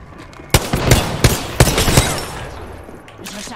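Gunfire in Apex Legends: several sharp, loud shots close up, spaced unevenly over a few seconds and followed by a quieter stretch with one more shot at the end.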